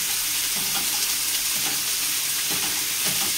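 Onions frying in a pan until lightly browned, for double smash burgers. A loud, steady sizzle fills the whole stretch, with occasional stirring scrapes close by and no speech.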